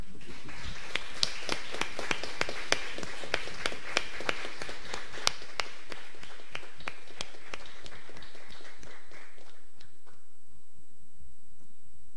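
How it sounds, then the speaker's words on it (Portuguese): A church congregation applauds the Lord after a prayer, with many hands clapping steadily and fairly close for several seconds. The clapping thins out and stops near the end, leaving a quiet tail. "Vamos aplaudir ao nosso Senhor."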